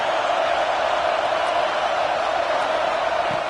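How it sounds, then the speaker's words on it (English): Fired-up crowd at an Oregon versus Auburn football stadium, a dense, steady roar filling the air, loud and continuous without a break. "this crowd is fired up. Listen to this noise here."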